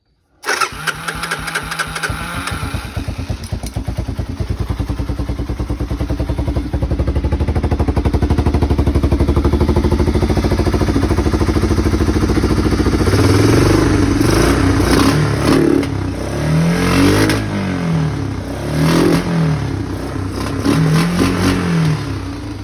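An off-road four-wheeler engine cranks and starts, settles into a steady running drone, then is revved several times in rising and falling sweeps, loud and close with no talking.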